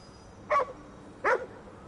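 Two short dog barks from the video game Ghostwire: Tokyo, spaced about three-quarters of a second apart, moderately close and clear over a quiet background.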